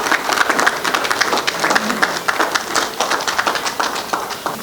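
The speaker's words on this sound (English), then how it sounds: "Let's give him a warm round of applause." An audience at a product launch event applauds warmly, a dense, loud, continuous patter of many hands clapping that holds steady for several seconds.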